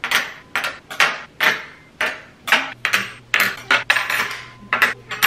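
Gold metal cutlery is set down piece by piece on a table, giving a steady series of bright clinks and taps, close and fairly loud, with no speech.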